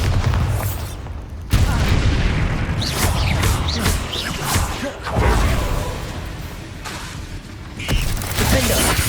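Bombarda explosion spells in the Hogwarts Legacy video game, loud booming blasts with whooshes and crashing debris in a dense continuous battle mix, with a voice calling out briefly among them.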